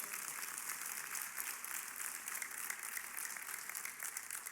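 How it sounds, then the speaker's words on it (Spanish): Church congregation applauding during a worship service, a faint, distant, steady wash of clapping with little variation. "Denle otro fuerte aplauso al Señor."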